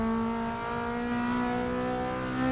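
A car accelerating hard down the strip in a mile drag race in Forza 6 against a 2012 Nissan GT-R, a loud, steady high-revving engine drone with a rising pitch, alone without talk.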